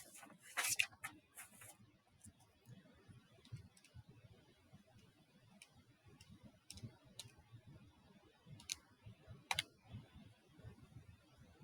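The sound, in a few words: typing a formula on a keyboard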